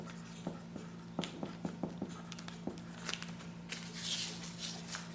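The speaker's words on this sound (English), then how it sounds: "And then write what it is." Pen tip writing a label on a plastic seed baggie, a quiet run of short scratchy strokes in a few bursts, close and soft, with a faint rustle of the bag toward the end and no talking.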